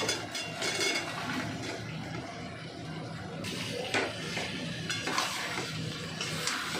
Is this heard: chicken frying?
yes